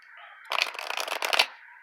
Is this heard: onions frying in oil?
no